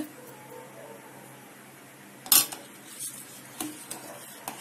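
A spoon stirs saffron-coloured sweetened milk in a pan for rasmalai, giving one sharp metallic clink and a few lighter taps and scrapes against a faint, low background.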